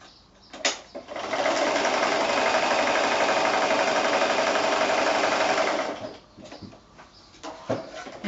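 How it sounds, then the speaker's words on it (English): A sewing machine stitches quilt patchwork strips together in one continuous run of about five seconds, a close steady whirring hum with a few soft clicks before and after. "So now I would go back to the machine and I would keep sewing"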